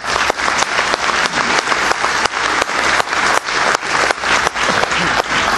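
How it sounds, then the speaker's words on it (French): A crowd applauds loudly at the inauguration of the Vendée Globe race village, with steady, dense clapping and a few sharper individual claps sustained throughout. "On peut l'applaudir bien sûr."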